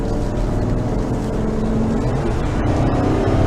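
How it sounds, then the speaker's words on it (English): Interior drone of a 2012 Ford E350 Econoline 6.8 V10 van with an Allison five-speed transmission, a steady low engine hum under way with slight rising pitch, no clear shift break. "it shifts great. Just nice, crisp, smooth shift. That's an Allison transmission, 5-speed transmission."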